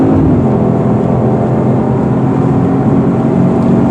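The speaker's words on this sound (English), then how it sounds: "That engine sounds great." Turbocharged V6 in a 2018 Genesis G80 Sport accelerating on an expressway: a steady, loud engine drone with a smooth rising tone and road noise, heard from inside the car with no talk.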